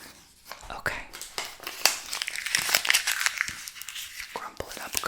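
Paper being crumpled up firmly in an ASMR cord-cutting session, close and crisp, with a run of crinkling and crackling bursts and soft whispering around it.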